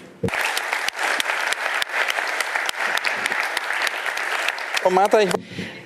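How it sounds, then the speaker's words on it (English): Audience applause greets the artist Martha Jungwirth at an art forum conversation: dense, steady clapping from a seated crowd fills the room, ending with a brief rising voice just before it fades. "Let's give her a great round of applause."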